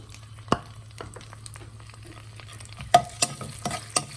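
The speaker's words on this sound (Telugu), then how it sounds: "వేసి బాగా వేగనిద్దాము" Bay leaf, green chillies and ginger-garlic paste fry in hot oil for a mutton keema biryani, a faint steady sizzle under a low hum, punctuated by several sharp clinks and scrapes of a spoon stirring the pan.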